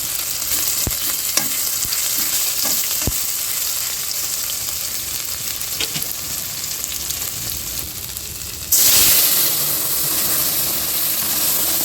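Tempering spices for dal crackle and sizzle steadily in hot oil, close and loud, with a few sharp pops and a sudden louder hissing surge near the end.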